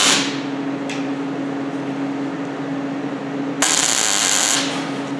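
A brief GMAW short-circuit tack weld on 14 gauge steel plate in a lap joint, heard as a sharp, loud crackling burst near the end over a steady shop fan hum, with no speech.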